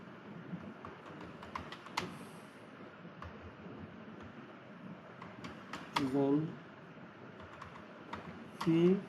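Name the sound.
typing a search on computer keyboard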